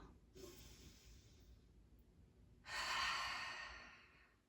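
Soft breathing during a beginners' yoga session, then one long, deep, close inhale drawn in audibly through the nose and tapering off slowly.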